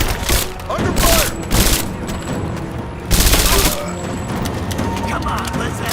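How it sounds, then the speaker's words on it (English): Rise of the Tomb Raider firefight: loud clustered bursts of automatic gunfire with sharp cracks and splintering impacts, separated by brief lulls of lower battle noise. "Under fire!"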